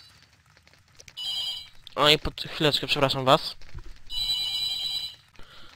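A telephone rings in short repeated bursts, pausing while someone speaks briefly in Polish over it, then ringing again, loud and close.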